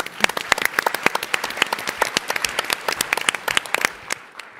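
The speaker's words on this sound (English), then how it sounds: "Give her a round of applause." Applause at the Startup Battlefield 2023 startup competition: a close, lively audience claps in a brisk stream of sharp individual hits, which thin out and fade at the end.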